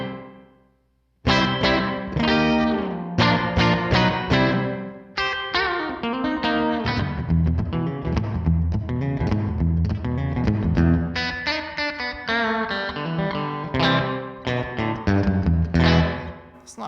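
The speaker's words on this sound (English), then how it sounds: "studio reverb for the studio." Electric guitar played through a studio reverb effect, with a distorted, chorus-tinged tone: after a brief silence, a continuous phrase of ringing notes and chords with a lush, lingering tail, loud and alone with no talk.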